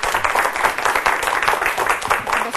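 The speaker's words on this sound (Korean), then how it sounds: "큰 박수로 맞아주시기 바랍니다" An audience at a leadership lecture applauds to greet the incoming speaker, a colonel and professor, producing continuous, even clapping from a roomful of people at moderate loudness.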